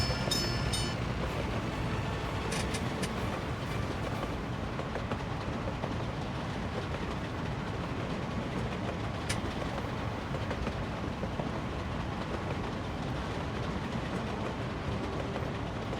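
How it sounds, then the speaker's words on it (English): Passenger train with a Tatra 678 locomotive running in the city-building game Workers & Resources, a steady rolling rail rumble with faint clickety-clack, continuous and fairly close throughout, with no talk. "Look, we bought a little locomotive."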